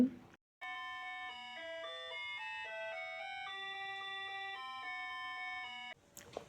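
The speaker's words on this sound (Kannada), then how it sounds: "ಇಷ್ಟೊತ್ತಿಗೆ ಆರು ಗಂಟೆ ಆಯಿತು ಬೆಲ್ ಸೌಂಡ್ ಕೇಳಿಸ್ತು ನಿಮಗೆ" A bell chime rings at six o'clock, playing a sustained multi-note melody for about five seconds. It is clear and steady, with no talking over it.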